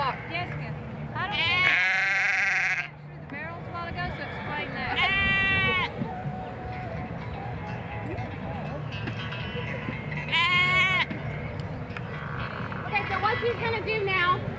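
Sheep bleat repeatedly in short, wavering calls, some near and some farther off, while a herding dog works the flock at a chuckwagon race event; faint voices and outdoor background noise run underneath.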